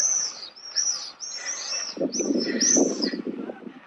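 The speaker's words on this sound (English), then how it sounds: "I can hear the birds there." Birds outdoors in Supetar, Croatia, calling in repeated high, swooping chirps and whistles, close and lively, with a softer fluttery chatter joining partway through.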